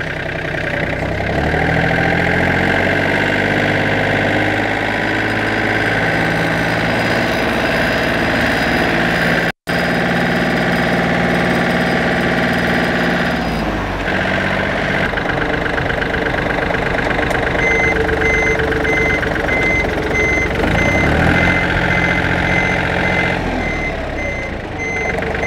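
A Yanmar FX 265 Japanese mini tractor engine runs steadily and close, a loud continuous mid-pitched drone with a repeating electronic beep over it and a brief dropout partway through.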